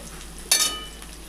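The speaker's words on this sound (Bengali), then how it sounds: "এখন একটু লাল লাল করে এটা ভেজে নিচ্ছি।" Meat with green chilli and tomato browns in a pan: a low, steady frying noise with one short, sharp burst of hissing sizzle.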